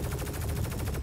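Rapid automatic gunfire inside a Drake Cutlass Steel ship in Star Citizen, a fast, even stream of loud close shots that continues for about a second.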